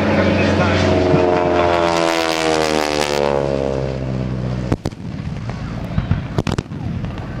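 A T-6 propeller airplane dives past at an airshow, a loud droning engine whose pitch slides downward as it passes, followed by sharp bangs and crackles near the end.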